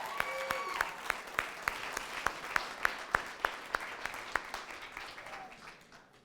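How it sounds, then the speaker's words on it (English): Audience members at a seminar clap in a steady rhythmic applause, sharp regular claps over a bed of scattered clapping and cheering, fading toward the end. "Give yourselves a big round of applause."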